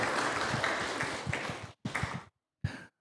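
A crowd applauds a player of Club Atlético Andahuaylas Femenil at the 2025 squad presentation: dense, sustained clapping that fades, then two short bursts of clapping separated by silence.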